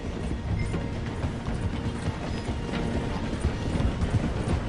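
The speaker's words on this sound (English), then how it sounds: "The train is slowing down to go through the station." A train slowing as it passes through a station in a video game, a steady rumbling clatter of wheels and carriages with rhythmic knocking, close and fairly loud throughout.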